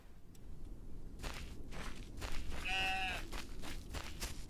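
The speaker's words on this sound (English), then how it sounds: "There's another sheep?" A sheep bleating in a video game, one short wavering bleat midway amid soft repeated footsteps, moderately faint.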